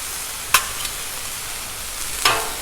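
Garlic sizzling on a Blackstone griddle while beef fried rice is cooked: a steady bright frying hiss with two sharp scrapes of a spatula stirring, close and moderately loud, no voices.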